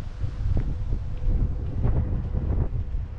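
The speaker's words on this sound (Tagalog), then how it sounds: "Ang lakas ang hangin." Steady, heavy low rumble of wind buffeting the microphone, continuous throughout with gusty swells and no voices.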